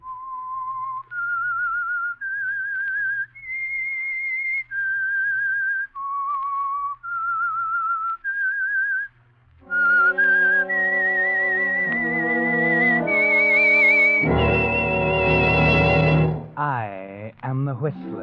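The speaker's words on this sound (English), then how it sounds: "That whistle is your signal for the Signal Oil program," Whistled theme tune of The Whistler, a Signal Oil radio program: a lone, clear, close melody of sustained notes, then a full orchestra takes over and swells loudly to the end.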